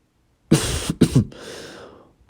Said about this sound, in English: A laugh turned into more coughing.